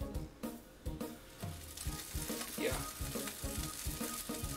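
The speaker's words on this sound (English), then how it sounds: "We're gonna fry up some dumplings" Dumplings frying in the video game CounterFight, with a continuous soft sizzle and a regular run of muffled knocking beats throughout and no talking.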